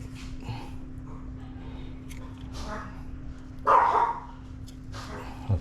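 A puppy lets out a short burst of barking partway through, set against a low steady room hum and faint background noise, with a quieter yip near the end.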